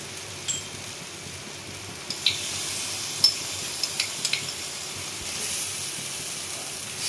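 Spice paste for crab curry frying in a pan with a steady low sizzle, broken by a few soft scraping stirs; close and fairly quiet, with no talking.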